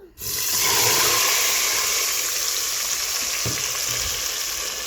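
Tomato puree hitting hot oil in a pot for spaghetti jollof, a loud sudden sizzle that settles into a steady close frying hiss with a soft clunk midway.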